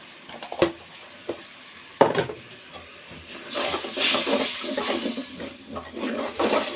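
Cumin, garlic and ginger pastes for fish-head dal fry and get stirred in a pan: a few sharp scrapes and clinks come first, then a steady, close sizzle builds under further stirring.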